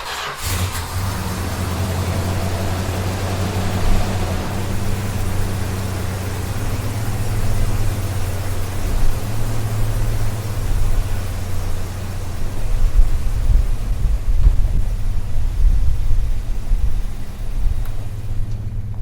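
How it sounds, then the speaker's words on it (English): Chrysler Cordova car engine cranking and firing up, then settling into a steady rumbling idle with a few revs swelling toward the end, heard alone and fairly close. "The Cordova's been fired up."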